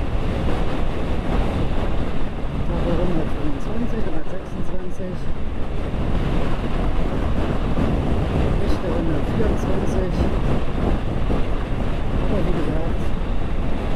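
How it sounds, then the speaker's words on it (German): Heavy wind buffeting the microphone with low rumbling gusts throughout, while someone talks over it and surf or water noise churns underneath, during a Vespa GTS 300 hpe Supertech scooter ride testing a J.Costa variator. "starker Wind heute."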